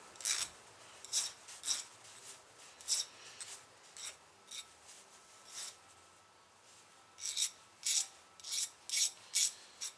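Hand filing the sharp edges off a metal washer that retains a PCV valve on a 1991 GMC Jimmy: short, close, raspy strokes in irregular bursts with brief pauses between them.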